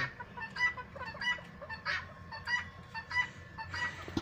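Several silkie chickens make soft, repeated clucks and short honking calls in an irregular rhythm, fairly close against quiet background.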